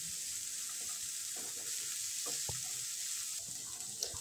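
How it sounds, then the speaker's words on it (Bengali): Potatoes and thin-sliced carrots fry in a pan for veg polao, a steady soft sizzle that hisses quietly throughout, with a few faint stirring clicks and one small scrape near the end. "আলুটা আর গাজরটা আমি প্রথমে ভেজে নেব।"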